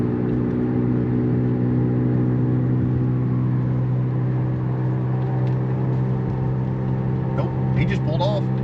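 A car engine hums steadily nearby at a gas station, a constant low drone that holds through the clip as the car pulls away, with faint higher noises near the end.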